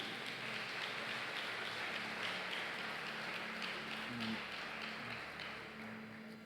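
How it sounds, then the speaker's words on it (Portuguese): Church congregation applauding during a worship service, a steady wash of many hands clapping at moderate distance, with faint tones underneath and fading slightly at the end. "pode aplaudir a Deus aí"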